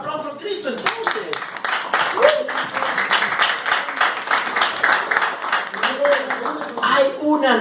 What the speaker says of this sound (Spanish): Un aplauso a Cristo entonces.